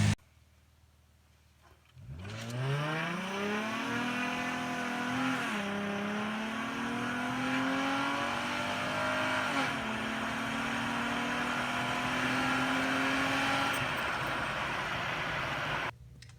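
A Nissan 350Z fitted with an intake spacer pulls away on a test drive, its engine rising in pitch through a long acceleration with a brief shift dip, then holding a steady drone close by after a quiet start.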